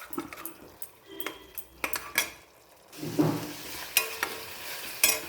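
Vegetables sautéing in a pan for a simple macaroni dish, with stirring and scraping of utensils against the pan, a few clinks of metal and a soft sizzle underneath, close and alone with no voices.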